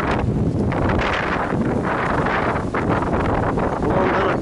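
Strong wind buffets the microphone on a Miami street beside a building and construction, a steady loud roaring rush with gusty swells throughout.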